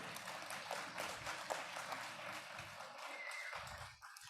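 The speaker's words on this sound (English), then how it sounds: "So if we could give them a big round of applause." A faint, fairly thin patter of clapping from an audience thanking the cooks at an annual general meeting fades out near the end.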